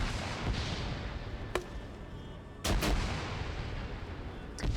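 Grenade launcher rounds burst in a military video game firefight with two or three sharp, booming blasts. Each rings out over steady background battle noise.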